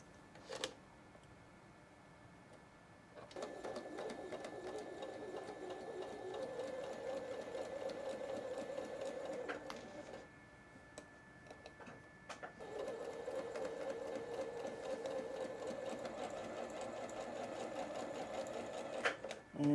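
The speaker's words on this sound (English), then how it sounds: "let's go ahead and get these sewn" Sewing machine stitching pinwheel quilt block pieces, a steady close whirring hum running in two long bursts separated by a short pause, with faint clicks and handling noises between runs.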